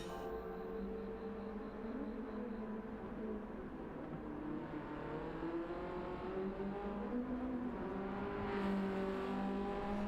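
A race car in a BMW racing video game, set at the Red Bull Ring, drones past with a steady engine whir at moderate distance, swelling slightly near the end, with no talking.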